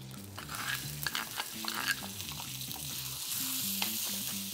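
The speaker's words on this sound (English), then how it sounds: "let's get this chili cooking. Add in some oil. And I'm gonna go in with our dried shrimp mixture first." Dried shrimp chili mixture frying in hot oil, a steady close sizzle with occasional light stirring scrapes and a tonal musical bed underneath.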